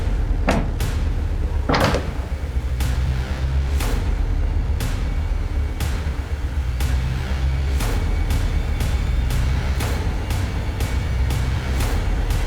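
A door in a crime drama scene gives a steady run of sharp, evenly spaced thuds and knocks over about twelve seconds, fairly loud and close, with no voices.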